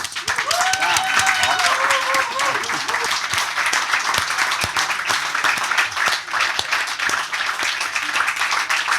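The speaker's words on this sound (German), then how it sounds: "Liebes Fräulein, Applaus!" A German stage-show audience breaks into loud, dense, continuous applause that fills the whole stretch. A voice is briefly heard over it near the start.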